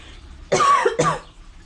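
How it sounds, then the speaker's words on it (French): Two quick, harsh coughs close to the listener, one right after the other, caused by perlite dust while repotting an epiphyllum, with quiet surroundings before and after. "Désolée, la perlite fait tousser."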